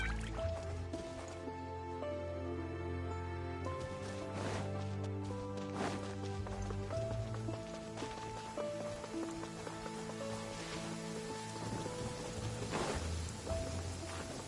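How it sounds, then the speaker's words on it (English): Steady rainfall in a video game with scattered drips and splashes, layered under a soft melodic music bed that runs throughout. "Taking a stroll in the middle of a downpour certainly rouses the spirit."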